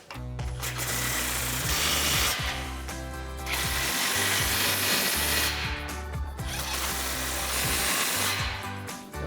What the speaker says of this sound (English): For that, we're going to grab our 15mm socket on our impact.